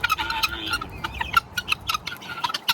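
Several farm chickens cluck in quick, uneven bursts close by, a busy chatter of short calls with no talk over them.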